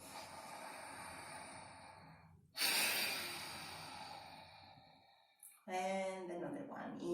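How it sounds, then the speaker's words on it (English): Slow, deep breaths during a morning yoga practice: a long audible exhale, then a sharp full inhale and another breath, close and intimate against a quiet room. "Exhale completely. Inhale. Exhale."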